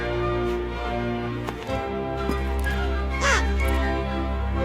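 A crow caws close by, a few harsh, scratchy calls over a droning musical background.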